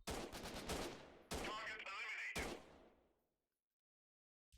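Rapid gunfire bursts in the video game Freeman: Guerrilla Warfare, three loud back-to-back volleys of shots fading into a few seconds of silence.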